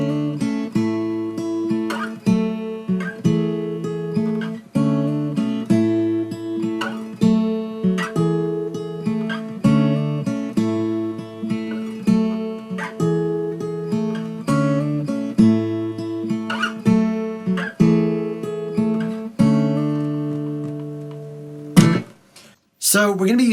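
Acoustic guitar with a capo fingerpicks a repeating riff, clear plucked notes in a steady looping pattern, close and alone, ending with a couple of sharper strums.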